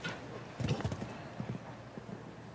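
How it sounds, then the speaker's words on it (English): Hooves of a 13-year-old show jumping horse clip-clopping at a CSIO5* international competition at Spruce Meadows, an irregular cluster of thudding steps up close, with a faint voice in the background. "This Electric Blue is a terrific horse"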